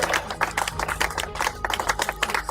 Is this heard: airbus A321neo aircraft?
no